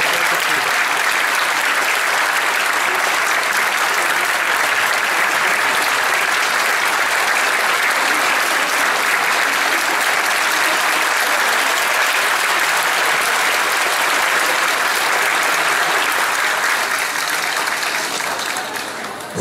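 Concert audience giving strong, sustained applause as the conductor of a Turkish folk music ensemble comes out, a loud, dense wash of clapping that holds steady for a long stretch before fading at the end.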